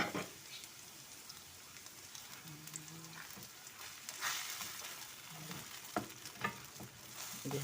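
Eggs frying in a pan for khagina give a continuous soft hiss and crackle, close and steady, with occasional sharper pops and spatula scrapes breaking through.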